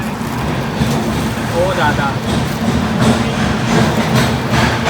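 A train rumbles along with a steady low roar and rattling, while people talk over the noise.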